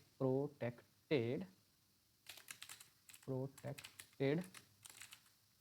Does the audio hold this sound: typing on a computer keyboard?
yes